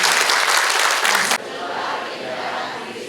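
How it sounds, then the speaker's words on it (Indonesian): Audience applause at a volunteer training session in a Tzu Chi center hall, a loud dense burst of clapping for over a second that cuts off abruptly, followed by quieter room noise. "Tepuk tangan buat di sini."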